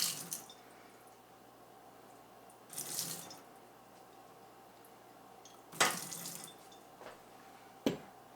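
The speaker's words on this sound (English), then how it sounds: "So we'll add about 1/2 cup of water at first." Cold water poured into a mixing bowl while preparing a make-ahead Thanksgiving dessert, heard as a few short splashing bursts over a quiet kitchen background, with no talking.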